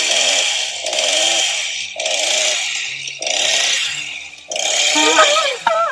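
A chainsaw runs at a Halloween haunted attraction, revving in repeated loud bursts about once a second, with voices mixed in.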